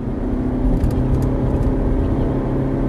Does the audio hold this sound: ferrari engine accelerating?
yes